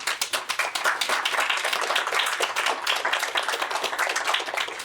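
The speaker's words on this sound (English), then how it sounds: "So please give them a very round of applause." Audience applause for candidates at a chamber of commerce meet-the-candidates event, a fairly close, lively crowd clapping with rapid overlapping claps throughout.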